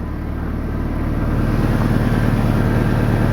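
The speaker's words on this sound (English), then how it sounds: "you can hear an exhaust leak, a ticking, especially at low RPM under higher load" Steady, close engine drone from a 1999 Toyota Tacoma 2WD with an exhaust leak, a continuous low hum with a faint, fast ticking pulse running through it and no talking.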